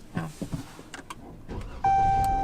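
A car is started with the brake held and the start button pressed on a California road trip: a few soft clicks and thumps, then the engine catches with a sudden steady hum that holds to the end, close and fairly loud.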